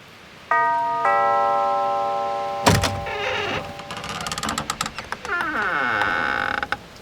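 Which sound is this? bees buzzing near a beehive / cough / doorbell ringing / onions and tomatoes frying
doorbell ringing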